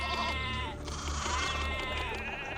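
Sheep bleat in the Zeus: Master of Olympus city-building game, several wavering calls overlapping atop a busy, continuous bed of game ambience and music.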